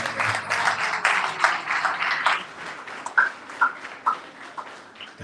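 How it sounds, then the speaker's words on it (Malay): Pupils applauded at a Malaysian primary school ceremony, SK Taman Medan: a crowd's steady clapping with a rhythmic pulse, moderately near, fading toward the end with a few individual claps. "Tepukan untuk mereka lagi sekali."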